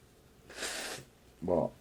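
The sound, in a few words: blowing nose into a tissue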